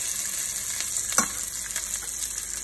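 Onions fry in olive oil in a pan, giving a steady, close sizzle with a few brief stirring scrapes and no talk.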